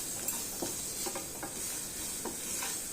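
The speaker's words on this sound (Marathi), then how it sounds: "आणि ही सगळी फोडणी छान परतून घ्यायची आपल्याला" A tempering of ground ginger, coriander, green chilli and garlic sautés in a pan with a soft, steady sizzle and occasional light stirring taps, fairly quiet throughout and without any talk.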